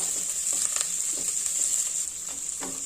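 Potatoes and onions with curry leaves stir fry in a pan over a medium flame, a bright continuous sizzle broken by repeated scraping stir strokes, close and fairly loud with no speech.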